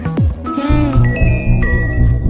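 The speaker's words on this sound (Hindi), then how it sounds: "देखो फोन तो आ गया उसका।" A melodic electronic ringtone chimes repeatedly over a steady rhythmic backing, loud and close, with a short swooping tone at the start.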